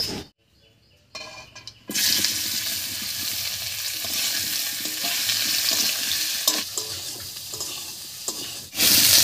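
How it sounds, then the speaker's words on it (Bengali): Peeled potatoes go into hot oil tempered with whole cumin and two bay leaves, then are stirred, giving a loud, steady sizzle after a quiet start, with scraping stir strokes throughout. "ফোড়নটা ভাজা হয়ে গেছে, এবার ছুলে নেওয়া আলুগুলো দিয়ে দিচ্ছি।"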